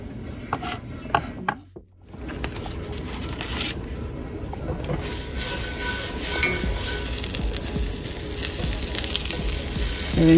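Butter melting in a pan, with a soft, steady sizzle and crackle holding close and even after a brief quiet gap near the start.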